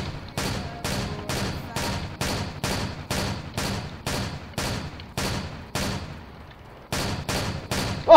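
Rapid gunfire in Roblox Ultimate Driving while shooting at police cars, a regular run of sharp, evenly spaced shots about two per second, loud and close with little else heard.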